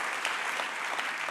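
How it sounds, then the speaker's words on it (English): Audience at an awards ceremony applauds event sponsors, a brief, even burst of many hands clapping at moderate volume, heard alone. "Let's give them all a round of applause for making this event possible."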